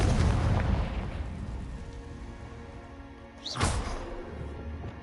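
A Confringo explosive spell going off in the Hogwarts Legacy video game: a sharp burst with a rising whoosh cutting through continuous rumbling combat noise, then a lingering roar.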